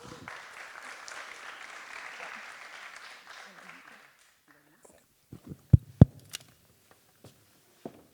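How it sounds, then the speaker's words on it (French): Audience applause at an entrepreneurs' speed-dating event, moderate clapping that fades out after about four seconds and gives way to near silence broken by a few sharp knocks and handling sounds. "merci de les applaudir"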